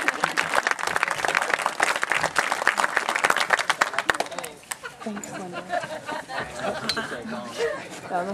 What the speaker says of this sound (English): Everybody, please, round of applause for Mr. Kirk